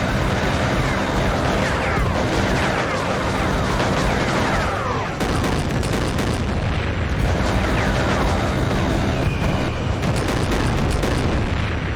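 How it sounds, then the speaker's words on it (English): Burst-fire weapon in the video game Mecha Knights, with dense, continuous booming gunfire and explosions filling the whole stretch. Repeated loud bursts sit close up, and a faint voice occasionally shows underneath the din. "that is the sound of the burst fire."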